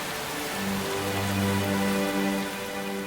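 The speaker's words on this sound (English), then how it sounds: "The cold rain falls." Cold rain falls in the Colorado mountains with a steady, even hiss of drops, unbroken for the whole stretch, with a soft sustained musical tone beneath it.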